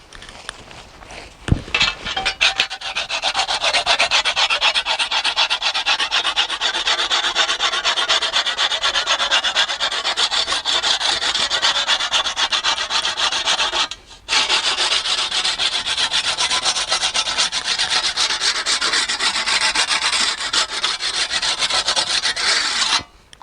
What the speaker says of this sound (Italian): Dopo la filatura a martello è necessario rifinire con la pietra cote